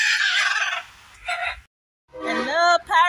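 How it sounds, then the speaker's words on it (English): Parrots at Konoko Falls let out a few loud, harsh squawks in quick bursts, separated by brief near-silent gaps, with the final calls the sharpest and loudest. "I see you can hear the parrots in the background."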